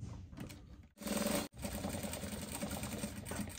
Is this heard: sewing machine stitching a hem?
yes